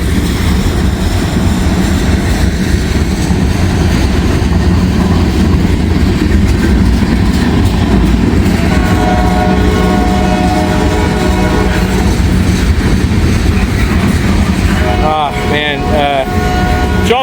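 Freight train M510 rumbles past at steady volume for the whole stretch, with rolling wheel noise and a brief horn-like tonal sound near the end.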